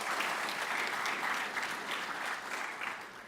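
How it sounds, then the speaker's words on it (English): A campus audience at a National Signing Day event breaks into steady, sustained clapping that fades slightly toward the end, with no voices over it. "let's give them a round of applause"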